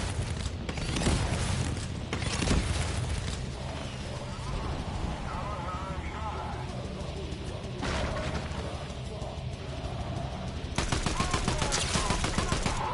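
Gunfire in the video game Fortnite comes as rapid bursts of shots, dense rattling volleys near the start and again at the end, with quieter game sounds between.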